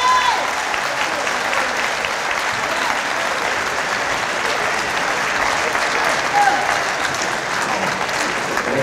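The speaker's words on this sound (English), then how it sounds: "Let's give our brother another round of applause" A seated audience at a public address gives a speaker a sustained round of applause, even and dense throughout, with faint crowd voices underneath.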